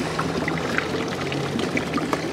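A fountain's water jet splashes and patters continuously into a basin outdoors, a steady close rushing with small irregular droplet splashes and no voices.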